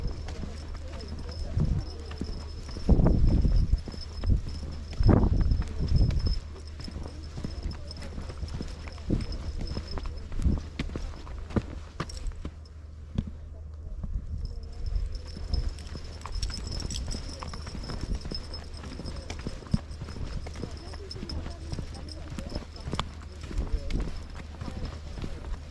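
Donkeys walk on a small tidal island in County Sligo, their hooves clip-clopping in a steady, close rhythm, loudest early on, while people talk nearby.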